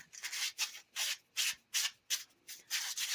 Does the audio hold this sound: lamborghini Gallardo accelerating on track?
no